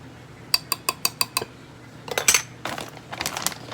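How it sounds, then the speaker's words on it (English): A spoon clinks rapidly against a glass dish six times while sweetener is stirred into a strawberry parfait, followed by scraping and rattling spoon movements, all close and without speech. "Then I'm going to just stir it up because I want a little sugar."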